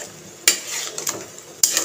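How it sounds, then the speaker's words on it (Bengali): A spoon scrapes and clinks against a pan while food seasoned with chaat masala is stirred, with two sharp metallic knocks standing out over steady scraping. No one speaks. "চাট মশলা দিয়ে আমি এটাকে আরেকবার নাড়িয়ে নেব।"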